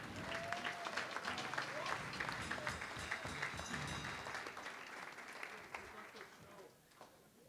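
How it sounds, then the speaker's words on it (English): Audience applause at a Las Vegas comedy show fills the room, loud and sustained clapping from a crowd with scattered cheers, fading somewhat toward the end. "Ladies and gentlemen, a big round of applause for Bobish's wife, please."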